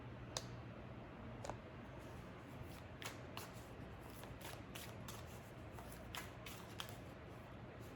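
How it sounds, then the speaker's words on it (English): Tarot cards being shuffled in a soft, continuous riffle, with sharper clicks and taps at irregular intervals over a quiet background hiss. "Let me show you the shuffle, and I will do the same for the tarot."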